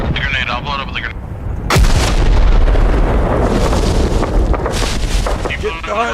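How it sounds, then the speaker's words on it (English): A grenade blast in the video game Arma Reforger, a sudden loud boom followed by sustained rumbling and crackling debris, with voices talking before and after. "Grenade, I'll blow it up with a grenade."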